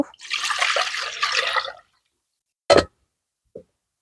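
Water poured out for a pickle brine, about 750 ml for Jewish-style pickled gherkins, gives a steady close splashing rush for under two seconds, then stops, followed by a single sharp knock and a faint tap.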